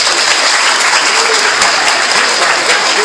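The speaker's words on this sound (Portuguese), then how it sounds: "Pode aplaudir," Church congregation applauding during a service, continuous loud, dense clapping filling the whole moment with no pause.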